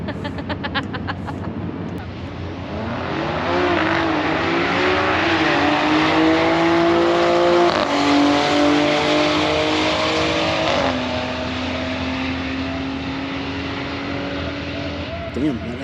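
Drag racing cars at the strip, among them an all-wheel-drive Ford Taurus SHO, launching with a loud rising engine roar that climbs through gear shifts, then holds a long steady high drone before fading, alone without talk.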